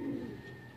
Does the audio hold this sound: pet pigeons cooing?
yes